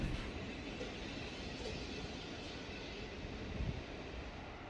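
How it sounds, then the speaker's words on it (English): A steady broadband rumble of a PKP SU4210 diesel locomotive train arriving in Poland, continuous and fairly loud, with a low mechanical drone beneath noisy rushing. "Arriving from Kostsyn is our PKP SU4210 locomotive,"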